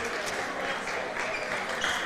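A crowd at a high school basketball doubleheader claps steadily across the gym, a continuous broad patter of applause with a commentator's voice faintly underneath.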